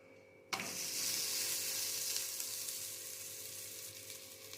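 Thalipeeth flatbread hits a hot frying pan with a sudden loud sizzle that spreads into a steady, bright crackling hiss and slowly eases off, with no talk.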